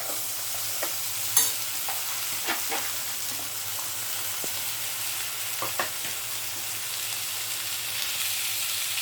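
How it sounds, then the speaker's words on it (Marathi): Cluster beans stirred into a tomato and spice masala in a pan: a steady, close frying hiss with scattered soft scrapes and knocks of the spoon, no talking. "आता आपण त्यात गवार ॲड करून घेऊ"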